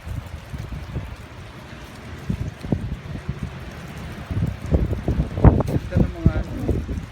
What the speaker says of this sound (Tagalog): Grabe ang hangin dito guys.